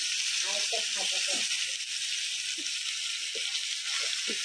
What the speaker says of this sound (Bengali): তো উল্টিয়ে পুল্টিয়ে এইভাবেই ভেজে নেব।